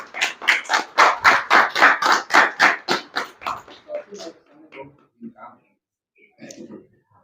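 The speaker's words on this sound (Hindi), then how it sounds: "जोरदार तालियों से इनका स्वागत करें आप लोग।" A crowd at an office farewell ceremony claps in a steady, rhythmic unison that fades after a few seconds into scattered, faint claps and soft murmurs.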